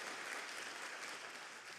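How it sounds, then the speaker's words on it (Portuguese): A church congregation claps warmly and steadily after a prayer, a dense, even wash of many hands that holds at a constant level throughout with no voices over it. "Se você crê nessa oração, aplauda Jesus bem forte"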